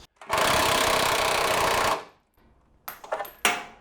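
A cheap impact wrench hammers away at bolts on a straight-six BMW E46 325i Touring, one loud sustained rattling burst of nearly two seconds, then a pause and a few short clanks and stuttering tool sounds close by.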